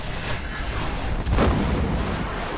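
A grenade detonates in the sci-fi shooter Destiny, a deep booming blast with a rumbling low-end tail amid ongoing gunfire and combat effects, loud and close in the mix.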